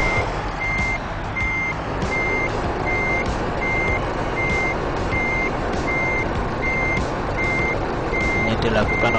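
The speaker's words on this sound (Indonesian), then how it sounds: "kita akan mulai memarkirkan kendaraan ini ya, kendaraan truk gandeng ini susah untuk parkir" A truck with a trailer reverses while parking in Euro Truck Simulator 2, its backup alarm beeping in a steady, evenly spaced loop over a loud, rumbling diesel engine.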